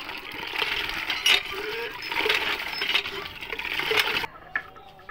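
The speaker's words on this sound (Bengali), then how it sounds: "ওই বদনাটা করে নিয়ে কীভাবে জল ঢালছে গায়ে" A small child bathing, pouring water over himself with a mug from a filled bucket, giving repeated splashing pours and a steady watery rush, close by.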